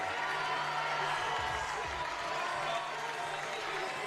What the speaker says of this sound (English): The crowd's starting to get loud here in the Arc Arena.